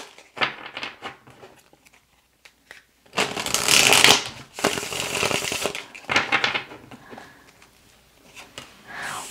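Tarot cards shuffled by hand, a dense papery riffling burst in the middle with lighter card handling before and after, close and clear, with some quiet speech.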